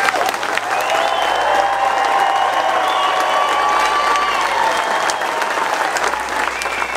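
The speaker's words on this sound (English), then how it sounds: "let's show them how we feel about them with another round of heartfelt applause" Heartfelt audience applause at an evening event thanking service members on stage, loud and continuous for several seconds, with a faint voice or whistle weaving through the crowd noise.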